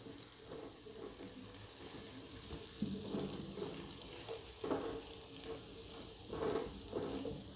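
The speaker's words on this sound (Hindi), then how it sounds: "ऑयल हमारा गर्म है और इसमें जो आलू बॉयल किए ना, ये शामिल कर लेंगे और इनकी बुनाई करेंगे।" Boiled potatoes frying in hot oil for a potato curry, a steady soft sizzle with faint stirring scrapes and a few louder bursts, continuous and fairly quiet with no voices.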